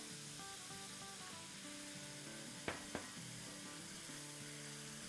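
Spices and stock fry in a pan with a steady sizzle, and two sharp clicks of a utensil against the pan stand out midway. Quiet music plays faintly underneath.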